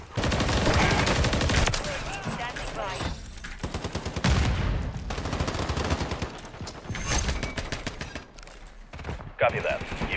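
Rapid bursts of gunfire from a sniper video game crackle through most of the stretch, loud and repeated, with players chatting over the shots.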